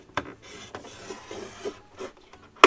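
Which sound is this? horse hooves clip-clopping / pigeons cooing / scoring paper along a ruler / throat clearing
scoring paper along a ruler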